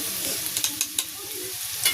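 A blended paste of ginger, garlic and tomato fries in oil after lightly fried onion, a steady sizzle broken by a quick run of rhythmic spoon scrapes and taps.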